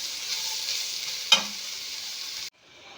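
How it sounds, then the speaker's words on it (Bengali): Carrots frying in hot ghee, a steady, fairly loud sizzle with a single sharp clatter of stirring near the middle, cut off abruptly into quieter hiss near the end. "গাজরগুলো দিয়ে আমি ভালো করে ভাজবো"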